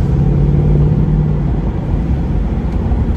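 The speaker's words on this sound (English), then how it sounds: "This car shifts hard." A 2019 Mustang GT Premium in track mode pulls hard, its loud low engine rumble droning steadily with a tonal hum early that drops away as the gear changes, heard from inside the car with no talking.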